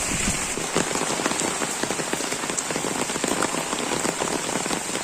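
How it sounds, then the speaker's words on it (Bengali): Heavy rain from Cyclone Remal pours onto surfaces nearby with no letup, a loud, dense, continuous patter of drops. "চারোদিকে সারাদিন বেশি বৃষ্টি হচ্ছে সারাদিন এক বিন্দু পরিমাণের জন্য বৃষ্টি থামতে দেখা যায়নি"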